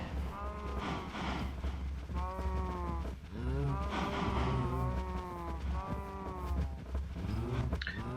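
Minecraft cows moo repeatedly in drawn-out, overlapping calls, several animals lowing one after another over a steady low background hum.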